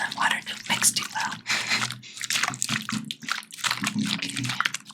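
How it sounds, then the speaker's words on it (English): A mixture of lavender oil and water sloshes and splashes inside a container as it is shaken up close, in a continuous, uneven churning rhythm for the whole stretch. "Shake up that lavender oil in there that may have kind of sunk to the bottom."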